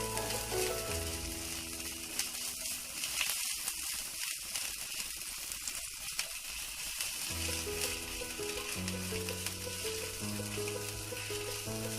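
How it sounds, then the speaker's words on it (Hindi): Ginger sizzles and fries steadily in a pan over a medium flame, a continuous loud crackle with stirring scrapes running throughout and no talk. "थोड़ा हम भूनेंगे। अदरक डाल देते हैं"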